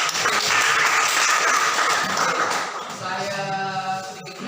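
Students in a classroom applaud a classmate, a short, loud burst of clapping that fades after a few seconds as a voice begins speaking.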